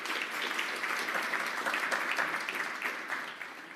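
Applause from a gathered audience at a library renaming ceremony honoring Harry Belafonte and his family, a steady moderate clatter of many hands heard from a slight distance, sustained without talk over it.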